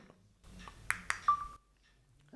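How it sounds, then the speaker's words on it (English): A phone's camera shutter, fired by the remote of an Ulanzi MT-38 selfie stick, gives two quick close clicks followed by a short electronic tone, in a quiet room with faint handling noise. "you do get the noise of the shutter on there when pressed"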